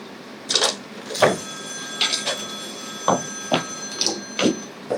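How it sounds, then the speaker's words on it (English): An old-fashioned telephone bell rings in repeated short bursts, fairly close and insistent, with brief pauses between rings, in a radio drama. "suffering every time that phone rings"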